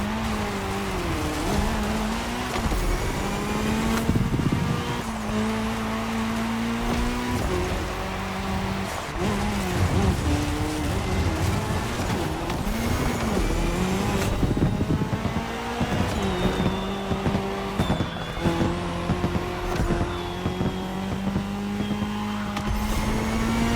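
Race car engines drone and rev continuously in The Crew Motorfest, cross-terrain cars on tarmac during a Red Bull Speed Clash race, with tire noise and shifting pitches throughout and no voices.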